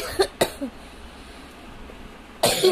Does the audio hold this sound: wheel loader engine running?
no